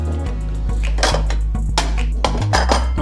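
A plate set down in a home kitchen before slicing roast Chinese-style crispy pork belly: several close, loud clinks and knocks of crockery and cutlery against a steady low hum, with no talk.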